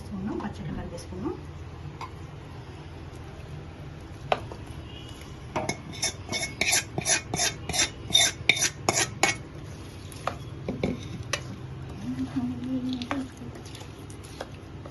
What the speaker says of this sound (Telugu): ఇప్పుడు నేను పచ్చడి వేసేస్తున్నాం. పచ్చడి కలిపేసుకున్నాం.